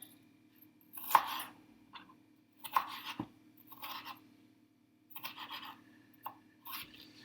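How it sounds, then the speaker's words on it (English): A knife chops on a board in short bursts of quick, close strokes, separated by brief pauses against a low steady hum. "chop it as small as you can go"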